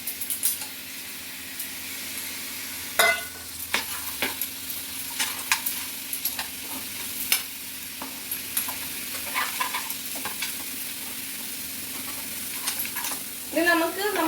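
Fresh clams tipped into a hot pan of Goan seafood masala and stirred, giving a steady close sizzle with repeated scraping and clattering strokes of the spoon against the pan.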